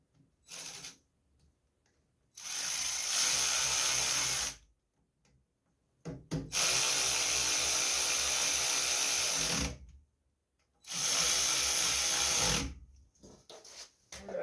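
A power ratchet driving bolts on the shroud of a Briggs engine on an Agri Fab leaf vacuum, with three loud, close whirring bursts separated by short pauses.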